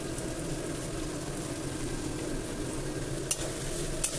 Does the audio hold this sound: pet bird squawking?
no